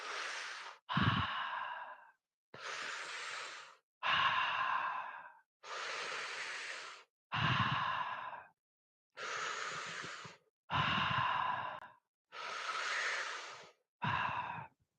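Deep breaths in a guided breathing exercise, a regular run of long inhales and exhales, each lasting about a second and separated by short pauses. The breaths are close, soft and unaccompanied.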